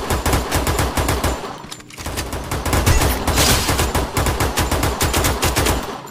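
Rapid automatic gunfire from the mobile battle royale game Free Fire, loud and dense, rattling in continuous bursts with a brief gap before the firing resumes, heard alone.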